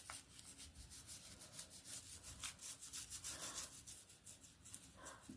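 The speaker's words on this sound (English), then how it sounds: "Scrub her all over." Doll from 1998, a Florida Vacation Barbie, scrubbed all over during restoration, with faint, soft rubbing and brushing strokes in an irregular rhythm, close by and without talk.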